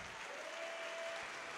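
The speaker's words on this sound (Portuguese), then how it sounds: "Então dê a melhor salva de palmas para esta palavra" Steady applause from a church congregation fills the space at moderate volume, a dense even patter of many hands lasting without break, with a faint sustained tone running underneath.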